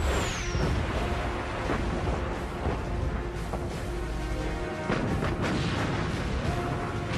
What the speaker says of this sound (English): Bismarck fires again.